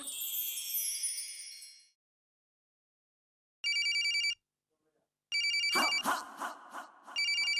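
A telephone rings with an electronic ringtone in short, bright repeated bursts, loud and close, after a brief stretch of music that fades out; between the rings a louder jingle-like sound plays.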